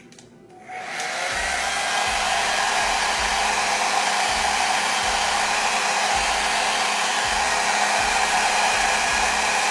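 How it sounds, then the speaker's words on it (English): A well-worn blow dryer blows steadily and loudly on a cool setting over a glueless lace wig hairline, switching on after a moment of quiet and then running without a break. "I'm going with my very crusty and very melted blow dryer, Old Faithful."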